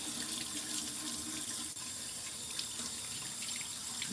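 A bathroom sink tap running steadily while someone rinses their face, a close, continuous hiss of flowing water with faint splashing and no speech.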